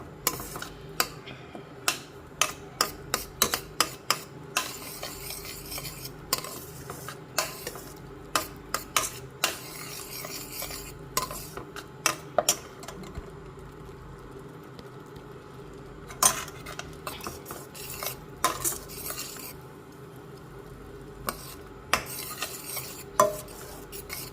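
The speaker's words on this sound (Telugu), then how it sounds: "చూడండి ఉడుకుతుంది దగ్గరికి వస్తుంది" Tamarind paste for pulihora cooking in a pan while being stirred, giving repeated sharp metal spoon scrapes and clinks against the pot over a soft bubbling, sizzling bed, with no talking.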